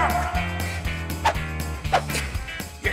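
Small dog yipping and barking a few times in quick bursts, fairly close, over a low humming background.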